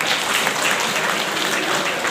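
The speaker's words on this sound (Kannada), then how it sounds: "ಅವರೊಂದು ಜೋರು ಚಪ್ಪಾಳೆ ಮಾಡಿ" An audience at a religious gathering in a monastery claps loudly and continuously, a thick, even roar of hands with no speech on top.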